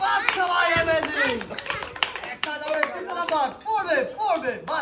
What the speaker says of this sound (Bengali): সবাই বাদশার জন্য করতালি